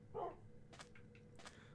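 A dog in a video game gives a few short, faint barks and yips in quick succession, with quiet background between them.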